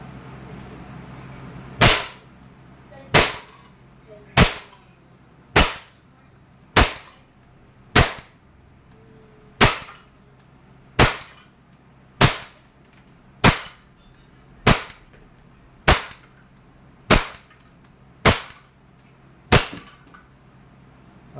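An Umarex Glock 17 Gen 5 pellet airgun fires repeatedly at a can: about fifteen sharp, loud, close reports at a steady pace of roughly one per second.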